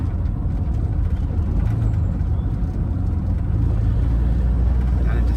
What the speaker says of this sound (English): Down into third because can't stay in fourth.